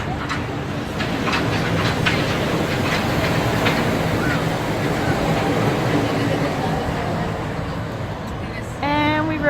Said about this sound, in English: Oh, there's the monorail.